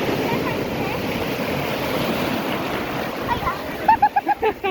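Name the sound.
big sea waves breaking at the beach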